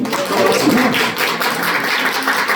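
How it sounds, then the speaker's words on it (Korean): An audience at a lecture claps steadily and densely for the full few seconds, with faint voices mixed into the applause. "다시 한번 큰 박수로"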